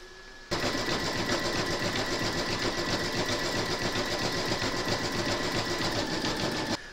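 A computerised embroidery machine stitches a decorative border round a baby burp cloth held in a hoop, a steady, fast, rhythmic needle clatter that starts abruptly and runs loudly and evenly for several seconds before cutting off.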